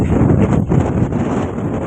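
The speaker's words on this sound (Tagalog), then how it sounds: "lakas din po ng hangin dito" Strong wind roars and buffets the microphone in a steady, loud low rumble with no voices.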